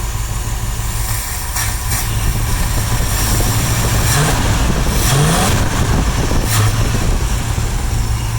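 A 1965 Thunderbird parts car's engine, lacking a working accelerator pump, runs steadily and close by, with a couple of revs rising around the middle and no talk over it.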